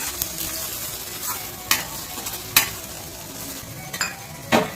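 Egg white stirred and frying in a pan for an egg thokku, a continuous gentle sizzle broken by several sharp spatula scrapes and knocks against the pan at irregular intervals, with no talking.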